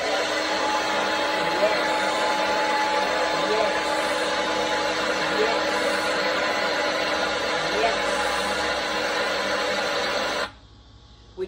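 A hairdryer sound plays for puppy training as a loud, steady whooshing roar for about ten seconds, then cuts off abruptly into near silence.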